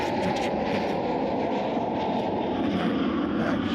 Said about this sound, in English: Boy, those planes are loud when they come through.